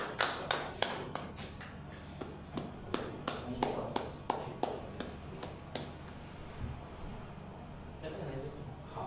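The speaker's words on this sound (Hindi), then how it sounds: "हम सभी ताली बजाकर प्रभु के दास का स्वागत करेंगे।" A church congregation claps in welcome, sharp hand claps ringing out in a lively, uneven rhythm that carries through the room and gradually thins toward the end.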